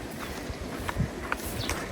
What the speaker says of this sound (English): These are the horses.